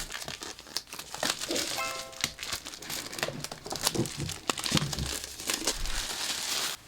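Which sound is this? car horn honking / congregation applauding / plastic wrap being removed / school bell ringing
plastic wrap being removed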